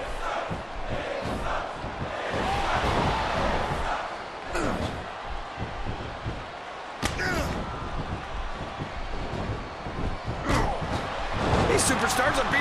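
A WWE Raw wrestling crowd cheers and yells continuously during The Miz vs Big Show fight, with sharp slams and thuds of the superstars breaking through the arena roar.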